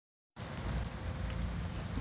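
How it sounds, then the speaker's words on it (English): Rain falling steadily, a dense hiss that starts abruptly after a brief silence and continues evenly, fairly loud and close with no voices. "It is raining."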